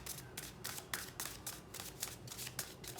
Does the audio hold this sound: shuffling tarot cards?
yes